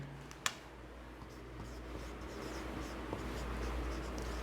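Chalk or marker writing on a board in a maths class, a short tap followed by faint, continuous scratchy strokes, quiet and close, with no talking.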